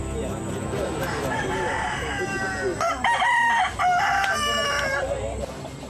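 A fighting rooster kept for cockfighting crows loudly at close range in two or three long calls, with clucking and crowd noise around it.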